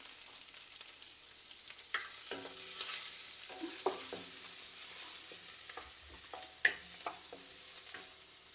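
Shallots and garlic sautéing in a pan for paruppu urundai kuzhambu, a steady high sizzle with intermittent spoon scrapes and knocks against the pan, close and moderately quiet, no talking.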